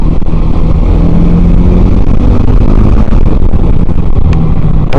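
Mahindra Mojo motorcycle engine as heard from inside a helmet with the visor closed, a loud, continuous muffled roar with wind rush, droning steadily throughout.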